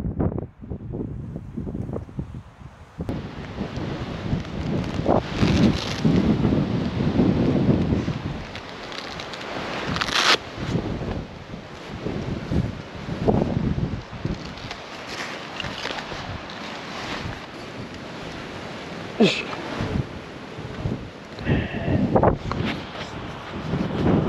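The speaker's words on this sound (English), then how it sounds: "Still really windy, bit chilly on the hands even." Strong, chilly alpine gusting wind buffets the microphone in rough, uneven rumbles with sharp bursts, loud and close, with no speech.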